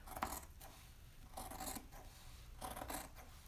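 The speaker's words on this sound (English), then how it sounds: "I'm using a pair of the scissors y'all were sent. They seem to be cutting pretty well." Scissors snip through fabric in three slow, rasping cuts, each a soft crunching slide, quiet and close with no talking.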